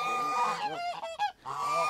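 Geese at a small family mini zoo in Latvia honk loudly and repeatedly, a close, noisy run of overlapping calls with only a brief pause in the middle.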